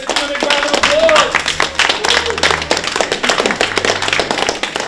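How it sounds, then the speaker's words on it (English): A room of people claps for a presenter stepping up to speak at a business meeting, a moderate spatter of applause with a few voices talking over it, close and fairly loud. "Let's give him a round of applause"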